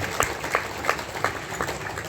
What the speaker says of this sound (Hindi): तालियां बजाने की तरफ जोर है